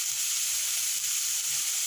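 Ginger paste and Kashmiri chili paste sizzle in a hot pan, a loud, dense, continuous hiss that holds steady throughout with no voices.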